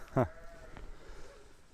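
A single short, close bleat from a lamb on a farm, followed by quiet background noise with a faint voice.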